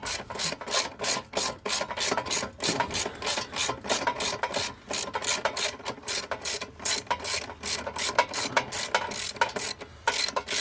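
A ratchet rapidly clicks while removing 10mm bolts from the intake pan of a VW/Audi EA211 five-speed manual transmission, in close repeated bursts of pawl clatter with brief pauses.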